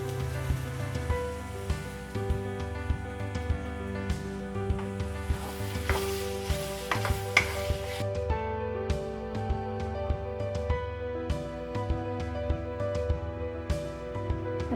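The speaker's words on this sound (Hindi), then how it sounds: "अब ये छोले हमने अच्छे से मसाले में मिक्स कर दिए हैं।" Pindi chole chickpeas cook in a spiced masala, giving a steady soft sizzle with a run of light scraping stirs and scattered ticks throughout; no one speaks.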